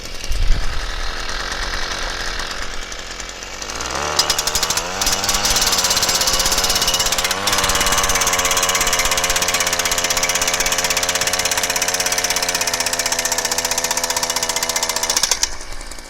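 A Thor engine-powered stake driver hammers a tent stake into the ground in a loud, rapid, continuous pounding over a running engine, starting abruptly and stopping near the end.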